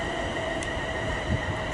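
London Northwestern Railway train at Watford Junction, a steady, fairly loud rumble of rolling stock and station ambience with no talk over it.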